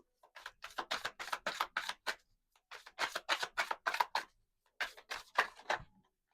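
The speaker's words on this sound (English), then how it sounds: "Y'all don't have to sit through this entire shuffling process." Tarot cards being shuffled by hand in repeated quick bursts of crisp riffling and flicking, three separate runs with short pauses between, close and fairly quiet with no talking.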